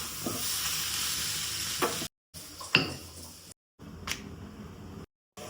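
Vegetable momo filling fries in a pan with a soft, fairly quiet sizzle, broken by a few brief silent gaps and occasional scraping stirs.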